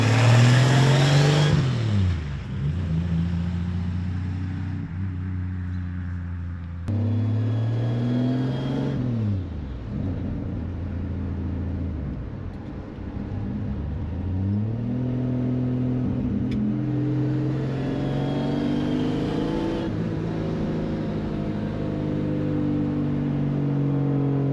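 Turbocharged Dodge work truck engine revving hard and loud, with repeated rising and falling pulls and brief drops between them, a sustained close mechanical roar with no talk.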